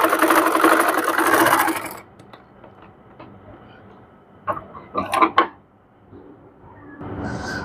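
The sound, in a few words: sewing machine stitching fabric for piping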